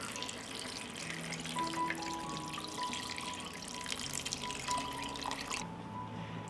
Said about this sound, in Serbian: Sipat ću vode da prekrije sve sastojke.